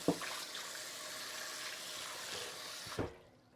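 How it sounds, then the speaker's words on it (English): Mixing bowl rinsed under a kitchen tap, a short quiet run of water splashing and trickling with a couple of soft clunks at the start and end. "Let me just give this a rinse."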